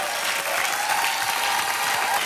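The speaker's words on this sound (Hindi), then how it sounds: "ताली बजती रहे देवी सज्जनों।" Dense, steady studio audience applause at a televised quiz game show, loud and continuous throughout with no break and no talk over it.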